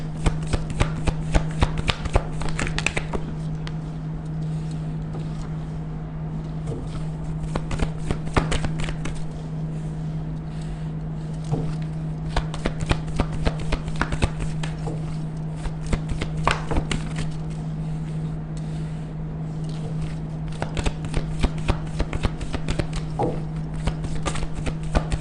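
Tarot cards are shuffled continuously by hand, a close, rapid run of crisp riffles and taps over a steady low electrical hum, going on for a long stretch without speech.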